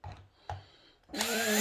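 A power drill backs screws out of a Traxxas E-Revo RC truck: two short taps of the trigger and then a rising whir that keeps running to the end, close and fairly quiet.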